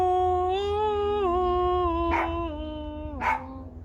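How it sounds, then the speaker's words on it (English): Dogs bark in a home during a singalong, a couple of sharp, separate bursts over a long steady held tone, fairly close with no one talking. "Dogs are at it."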